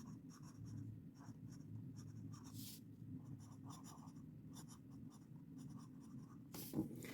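Fountain pen with a stub nib writing lines on paper, a soft continuous scratching with rhythmic strokes, very quiet and close, ending with a slightly sharper tap.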